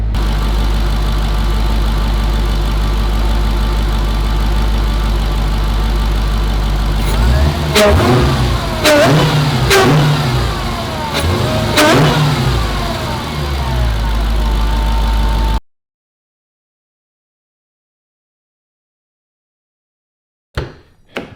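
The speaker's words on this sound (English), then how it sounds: "let the car warm up a little bit more, and then I'll give her a rev to see how she sounds" Dodge Challenger Hellcat fitted with a Corsa air intake, idling with a steady low rumble before several sharp throttle blips rise and fall, then a cut to near silence.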